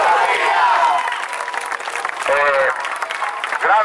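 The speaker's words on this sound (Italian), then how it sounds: "il direttivo, e un applauso" A crowd applauds the organizing committee at the 2018 Maria SS. di Portosalvo festival in Gioia Tauro, with loud clapping and some cheering, while voices and shouts rise over it and the applause keeps going.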